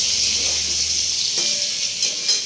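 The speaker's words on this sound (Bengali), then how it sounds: "এই দেখো মাছটা ভাজতে গিয়ে আমার গায়ে কেটে আসলো" Fish frying in a pan, a loud steady close sizzle and hiss with a couple of brief spatters and scrapes near the end.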